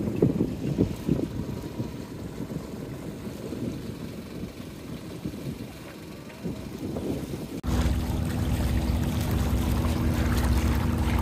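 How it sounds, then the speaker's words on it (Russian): A boat moving under way on the open sea, with wind buffeting the microphone over a low engine rumble and water rush that turns into a steadier, louder hum partway through. "Не ходил по своей лодке на ходу."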